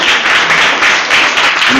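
Sustained, dense applause from an audience at a university humanities faculty anniversary event, honoring a wind ensemble after its performance; loud, steady clapping throughout with no talk.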